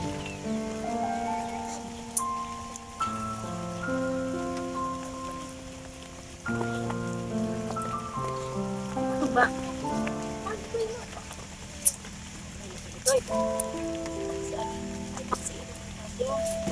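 Rain patters steadily on nearby surfaces, with occasional louder drips and a chicken clucking in the background.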